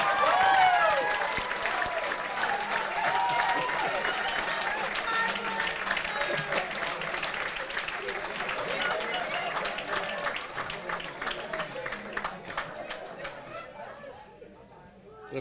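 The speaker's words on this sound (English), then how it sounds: "I wish he could hear the applause for that" A studio audience at Warner Brothers Studio in Los Angeles applauds with sustained, dense clapping that slowly thins out and fades, mixed with crowd chatter and voices.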